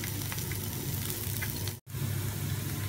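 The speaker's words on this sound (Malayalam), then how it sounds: "ഒരു സ്പൂൺ നെയ്യ് ഒഴിച്ച് ഞാൻ പാൻ ചൂടായിട്ടുണ്ട് അതിലേക്ക് ചെറിയ ഉള്ളി വട്ടത്തി അരിഞ്ഞു വെച്ചിട്ടുണ്ട്" Sliced small shallots fry in a spoonful of ghee in a hot pan, a dense continuous sizzle close by, broken by a brief silent gap just before the end.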